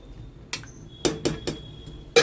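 A spoon clinks against a pot while garam masala is gently stirred into a chicken and arbi curry: a handful of sharp, irregular taps and scrapes over quiet background.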